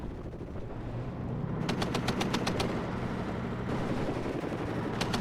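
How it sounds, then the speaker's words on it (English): M113 Dragoon vehicles fire on infantry in the Warno war game: a rapid burst of automatic gunfire rattles over a constant battlefield rumble, followed by a brief second burst at the very end. "You guys are seeing our M113 Dragoons firing away at the infantry."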